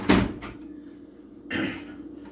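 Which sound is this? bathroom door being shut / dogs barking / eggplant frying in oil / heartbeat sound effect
bathroom door being shut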